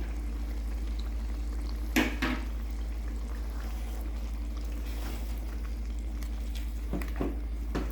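Ground coriander and mint paste frying in a mutton karahi gives a steady, quiet sizzle under a constant low hum, with a few brief scraping stirs standing out.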